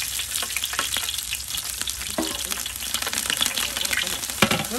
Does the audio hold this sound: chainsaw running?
no